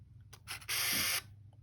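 A Ricoh MyPort Super Zoom compact camera takes a photo: a couple of soft mechanical clicks followed by a brief, steady motorized whir, quiet and close.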